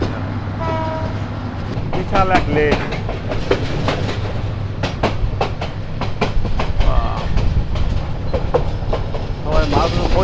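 The Paharika Express rolls along with steady wheel clatter and rumble, a horn sounding near the start and again toward the end, while someone speaks briefly over the noise.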